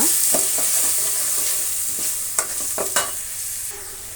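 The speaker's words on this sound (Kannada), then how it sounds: "ಈರುಳ್ಳಿ ಪ್ಯೂರಿನ ಹಾಕೋಣ ಹಸಿ ವಾಸನೆ ಹೋಗೋ ತನಕ ಸ್ವಲ್ಪ ಫ್ರೈ ಮಾಡಬೇಕು" Onion puree fries in a pan for a ladies finger (okra) masala: a steady, close hiss of sizzling runs throughout, broken by a few scattered scrapes and clinks of a stirring spoon.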